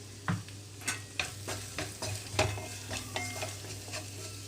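Chopped onions with turmeric and salt frying in hot oil are stirred in a pan, giving a soft sizzle under irregular scraping strokes of a utensil, fairly quiet and close with no talk, while making palakura ullikaram.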